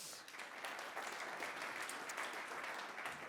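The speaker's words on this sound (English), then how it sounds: "really big applause" Sustained clapping from a sizable conference audience welcoming a speaker, dense and even throughout, heard at moderate volume without any voices standing out.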